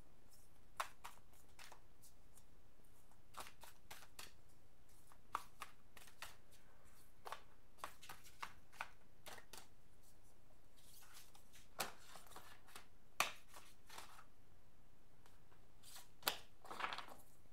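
Tarot cards being shuffled and handled during a reading, giving irregular quiet papery flicks and soft snaps scattered over a faint background hiss, close but low, with no voice.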